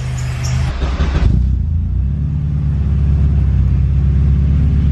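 A K24-swapped Honda EK hatchback running on E85 settles into a cold-morning warm-up idle, its deep steady rumble following a brief rev that drops away about a second in, close and loud.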